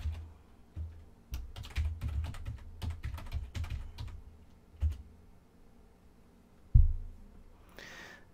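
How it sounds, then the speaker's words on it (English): Someone types a login name and password on a computer keyboard, a close, quick run of soft key clicks with brief pauses and a firmer final keystroke near the end. "you can type a login name and a password."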